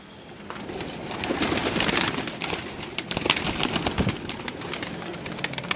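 Pigeons cooing inside a rooftop loft, many birds murmuring in overlapping low coos with occasional wing flutters, a dense continuous chorus close by with no talk.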